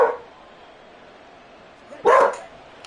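A dog barks twice, loud and close, one sharp bark at the start and another after a pause, over a quiet room background.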